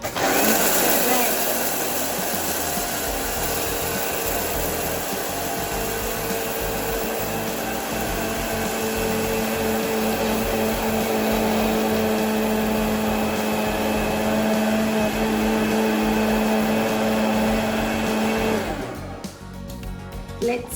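Mixer grinder whirring loudly as it grinds roasted urad dal, a steady motor hum with a dry rattling grind that runs for about nineteen seconds and then abruptly stops.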